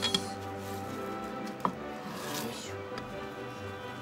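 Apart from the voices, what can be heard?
knife chopping shiso leaves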